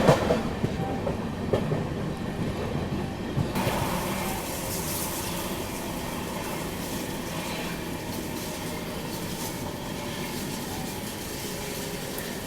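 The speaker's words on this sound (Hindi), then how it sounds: "मात्र 5 किलोमीटर की ट्रेन अच्छी रफ्तार में चलती है" The Gyan Ganga Express, a passenger train between Varanasi and Pune, rumbles along the rails at speed, a continuous close clatter of wheels and carriage noise heard from on board with no talking.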